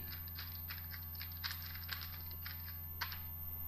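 Quiet keyboard keystrokes while typing code, scattered clicks with a few sharper taps, over a steady low electrical hum, no talking.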